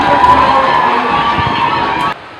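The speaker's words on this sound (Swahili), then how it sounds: "Makofi na vigelegele." Cheering, clapping and high trilling ululation from a gathering at the inauguration of pre-primary classrooms at a Catholic primary school. The loud, lively burst is close by and cuts off abruptly near the end.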